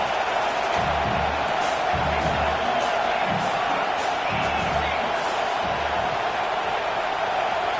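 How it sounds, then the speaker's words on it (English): Stadium crowd in College Football 25 roaring to rattle the offense on third and long, a dense constant din with scattered whoops, and a commentator talking over it. "Here comes the crowd trying to make it tough on 3rd and long."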